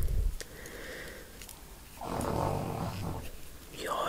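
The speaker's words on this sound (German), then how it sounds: "Ja, die schnarche ruhig weiter." Snoring from a sleeping animal or person nearby during a quiet indoor knitting session, with a few soft, rasping breaths rising and falling close to the microphone.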